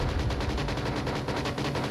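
Dense, continuous gunfire barrage from the Onward VR video game, a loud, unbroken rattle of rapid shots with no pauses.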